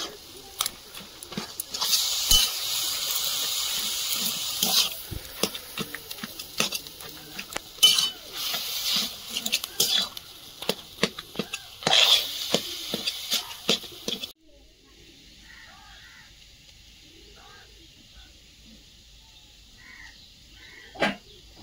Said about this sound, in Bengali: এবার শাকটা নেড়ে দেবো।